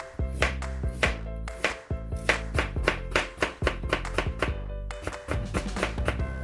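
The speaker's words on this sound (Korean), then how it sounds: "당근을 조금만 이렇게 채쳐주세요" A knife julienning a carrot into thin strips on a cutting board, a fast run of crisp, close chopping taps in quick uneven bursts with a short pause midway, no talking.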